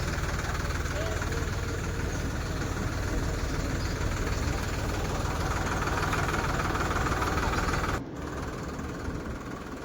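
A new tractor's engine idles steadily with a low, knocking rumble throughout a farm gathering celebrating its arrival, and the level drops slightly near the end.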